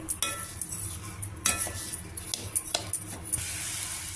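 A spoon stirs sugar into split milk in a pan over low heat, making irregular scraping clinks and soft wet swishes at close range.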